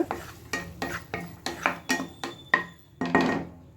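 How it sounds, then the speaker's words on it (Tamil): Finely chopped carrots sauté in a pan with ginger garlic paste, stirred in a brisk rhythm of about a dozen scraping strokes over a soft sizzle, close and fairly loud. "இப்போ நம்ம பொடியாக கட் பண்ணி வச்சுருக்கிற இந்த கேரட்டை ஆட் பண்ணிக்கலாம். நல்லா வதக்கிக்கோங்க."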